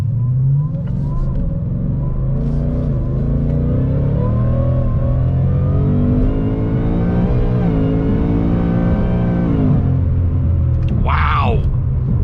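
A Shelby Super Snake Bold Edition Mustang accelerates hard in Sport Plus mode, its loud engine note rising steadily through the gears from inside the cabin, with a brief rear-end slide caught by traction control near the end while occupants talk over it.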